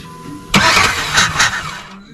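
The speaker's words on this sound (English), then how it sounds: "Yeah, it's trying to start already." A car engine cranks on its starter and tries to catch, a loud close burst of whirring and sputtering pulses lasting about a second and a half before fading out.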